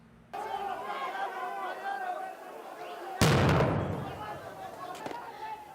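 A sudden loud dynamite blast cuts through a murmuring crowd at a clash between rival coca growers, followed by rumbling debris and another sharp bang shortly after, with voices continuing underneath.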